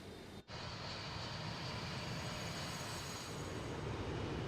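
Steady, broad roar of Boeing 727 jet engines climbing after takeoff in Microsoft Flight Simulator on an Alitalia flight out of Milan, a loud continuous wash with a thin high whine running over it and no talk.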